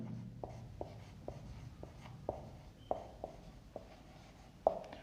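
A pen writes a formula by hand, a quiet close scratching in short strokes with soft regular taps as each mark is made, alone with no talking.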